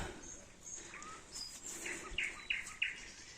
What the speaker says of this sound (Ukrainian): Тільки соловейка щебече.